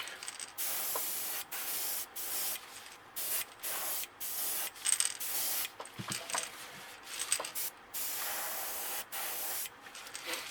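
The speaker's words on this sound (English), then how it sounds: "If you shoot a little bit on an angle here, you'll get some overspray that makes a nice gradual color change" Short bursts of spray paint hiss onto a crankbait fishing lure painted as a bluegill, close and loud, repeated in an uneven rhythm of quick passes with brief gaps between them.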